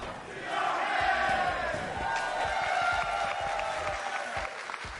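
A small but energetic crowd chants loudly and steadily at a Rocket League world championship esports event, a dense wall of voices with rhythmic accents lasting the whole stretch.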